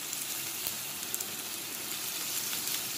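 Onion and garlic with green chili sizzle in hot oil in a pan for meat rice, a steady close crackling hiss with no voices.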